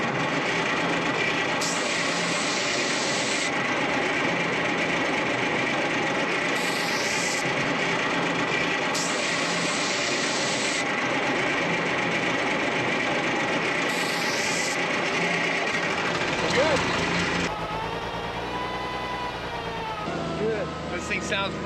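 A concrete truck's engine runs at a steady, loud idle with a continuous rumble, and a voice speaks briefly near the end.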